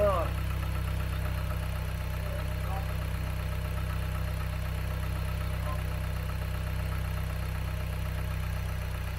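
A 2008 Dodge Caliber engine idles steadily with a loud, constant low hum and faint mechanical ticking throughout, no changes in pitch, and brief faint clatter near the start.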